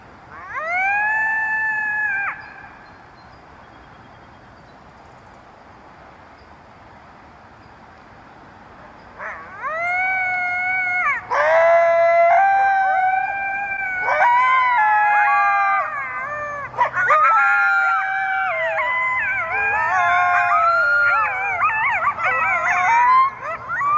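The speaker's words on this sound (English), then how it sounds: "Next is a doleful call after chasing out an intruder coyote, with two youngsters then joining him," An urban coyote gives a doleful howling call after chasing off an intruder, two young coyotes then joining in; a short wavering howl, a long quiet gap, then overlapping layered howls and yips building to a loud chorus.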